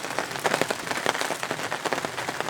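Rain patters steadily on surfaces during a backpacking trip in West Virginia's Cranberry Wilderness, a dense, close crackle of drops with no voices.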